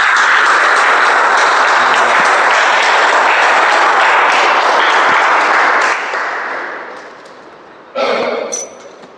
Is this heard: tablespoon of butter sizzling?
no